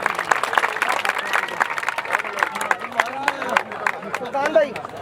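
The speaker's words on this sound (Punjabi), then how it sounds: "ਤਾੜੀਆਂ ਮਾਰ ਦਿਓ ਇੱਕ ਵਾਰੀ" A crowd claps at a pigeon racing trophy ceremony, a quick patter of many hands with rising bursts, as voices talk and call out over it.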